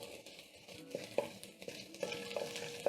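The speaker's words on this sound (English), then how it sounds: "So I'm going to check on my onions and give the onions a stir." A spoon stirs onions frying golden brown in a pot for mutton pilau, giving soft scraping strokes and a few sharp metallic clinks over a quiet sizzle.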